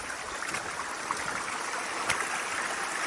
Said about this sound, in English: here is a beautiful waterfall